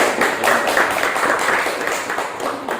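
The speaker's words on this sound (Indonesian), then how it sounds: "kasih dulu tepuk tangan untuk hasil kerja" A class of trainee teachers applauds a group's work, dense overlapping clapping from many hands filling the room at steady volume throughout, with no speech over it.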